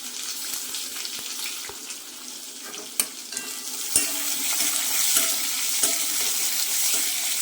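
Chopped onion and curry leaves frying in a pan for tomato rice, a close, steady sizzle that grows louder as the onion goes in, with a few sharp knocks and scrapes of a spoon.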